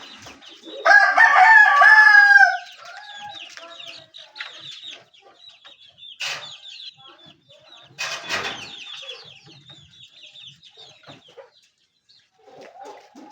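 A rooster crows loudly and close at the start, then gives scattered clucks and short calls during flight training on a 6-foot bamboo perch, with quiet gaps between.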